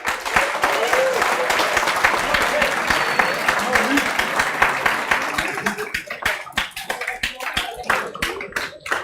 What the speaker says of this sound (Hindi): इन बच्चों का जोरदार तालियों से स्वागत कर लेते हैं